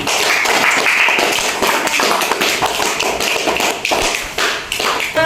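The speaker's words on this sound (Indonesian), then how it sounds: "Tepuk tangan untuk kalian semua." Students in a classroom clap together, a loud, close patter of many hands with uneven bursts and small dips.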